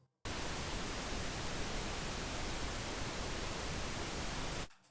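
Pink noise played through a Voxengo SPAN audio analyzer: a loud, steady full-band hiss that cuts in after a brief silence, holds evenly for about four and a half seconds, then stops abruptly.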